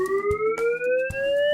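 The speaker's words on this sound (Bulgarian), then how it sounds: "Сигналът за евакуация от централата е прекъснат звуков сигнал на сирена." An evacuation siren at a power plant wails with a steady, slowly rising pitch, loud and close, while faint intermittent clatters and thumps sound underneath.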